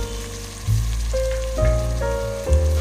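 Ginger garlic paste hits a pan of golden onions and sizzles loudly, with a strong continuous hiss and bursts of spatter that swell each time it is stirred, with no voices.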